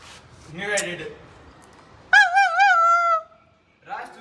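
A dog lets out a drawn-out, high-pitched whine lasting about a second, with a brief human voice before it and a short yip afterward.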